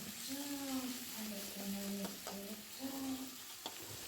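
Tomato, onion and ginger garlic paste sautéing in hot oil, a soft steady sizzle with a stirring spoon scraping the pan, while a voice talks over it throughout.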